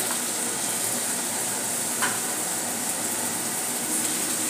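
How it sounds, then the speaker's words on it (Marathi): Sliced onion and peas sautéing in a pan for Schezwan fried rice, giving a steady, even sizzle throughout with faint stirring scrapes, close and alone without talk. "कांदाही यात परतून घेऊया आणि वाटाणाही यामध्ये घालून घेऊया."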